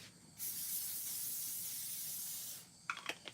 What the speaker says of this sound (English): sometimes I go in with a little bit of avocado oil spray